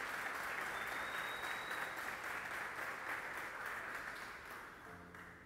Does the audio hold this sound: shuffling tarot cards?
no